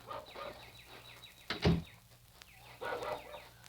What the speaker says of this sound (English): Oi, Fordy, away from my chickens. Away from my hens.